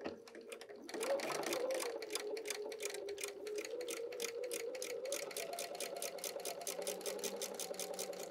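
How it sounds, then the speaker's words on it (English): A sewing machine stitches a quilt block seam, its needle tapping in a fast, even rhythm that builds up after a brief start. It stays close and steady for several seconds with no talking. "So let's go sew one more seam and let's complete our spool block."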